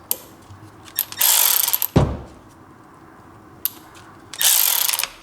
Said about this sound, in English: You're going to need a 10mm socket to remove your spark plug coils.